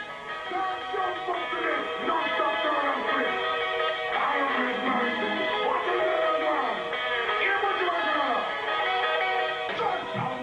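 Dense 1990s jungle music with fast busy rhythm and sliding sampled reggae vocal lines, played loud and steady throughout without pause.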